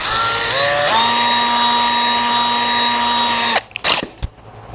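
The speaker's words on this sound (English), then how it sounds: "now we drill a very small, very small hole in this door" A power drill with a 1/16 bit bores a small hole in a cabinet door, a loud close whine that climbs in pitch, holds steady, then cuts off into a few short bursts.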